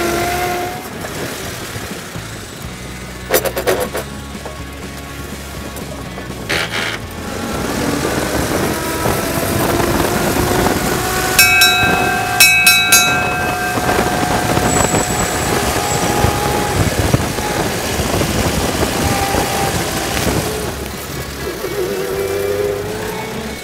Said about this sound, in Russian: А моторчик-то как работает, а? Как часы, а ему скоро 100 лет.